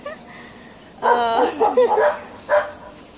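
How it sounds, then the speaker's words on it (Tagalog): Dogs on an employer's farm bark and yip in a few close, loud bursts, a short cluster followed by a single later bark, over a faint steady background hum. "may mga aso ako anak oh. Oo, aso ko. Kuki."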